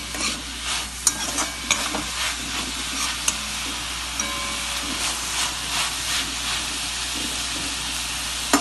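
Beans kootu with added salt is stirred in a pan, giving busy, close scraping and clinking strokes over a continuous hissing sizzle of steam, with no speech.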